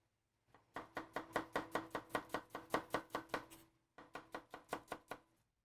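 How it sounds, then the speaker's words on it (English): Knife julienning shallots on a cutting board: a rapid, steady run of about eighteen crisp chops, a brief pause, then another quick burst, close and clear with no talking. "for the shallots, I'm just going to do a simple julienne"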